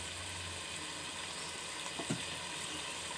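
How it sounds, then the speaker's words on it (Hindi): Hot oil with fried onions poured into cooking vegetables for a vegetable dum biryani, giving a low, steady sizzle and bubbling with a small splash partway through, fairly quiet and without talk. "ये वही जो ऑयल है जिसके अंदर मैंने प्याज फ्राई कर दी थी, वही वाला हम इसमें डाल देंगे।"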